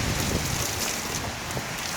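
Strong gusts of hurricane wind drive rain across a house roof during Hurricane Dorian in Halifax, Nova Scotia, a loud, dense, unbroken wash of hiss and rumble close to the microphone.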